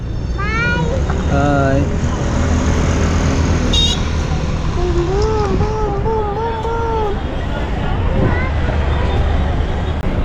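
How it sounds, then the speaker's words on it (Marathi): An MSRTC red state bus pulls away into busy market-area traffic near the Mumbai–Gujarat highway, with a continuous loud engine and road rumble, wavering horn-like tones and background voices. "गाडी काही जास्त वेळ थांबली नाही लगेचच निघाले"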